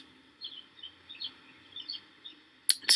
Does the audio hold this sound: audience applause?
no